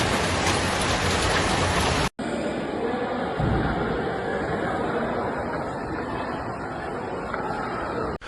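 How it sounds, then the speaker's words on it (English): Heavy rain pours down steadily during flash floods in Kuala Lumpur, a dense, loud, continuous wash of water with a brief break partway through. "heavy rains began pouring down since the afternoon"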